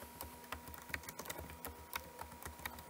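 Quick, irregular keystrokes clatter on a computer keyboard, close and fairly quiet, with short pauses between bursts.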